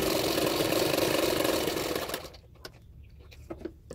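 A sewing machine runs a fast continuous stitch along the edge of a katori blouse, loud and close for about two seconds, then stops, leaving faint handling clicks.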